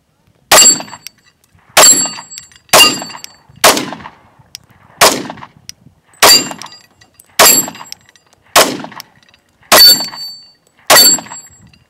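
Ten loud, sharp gunshots at a target shooting range, spaced about a second apart in an even rhythm, each with a short ringing tail.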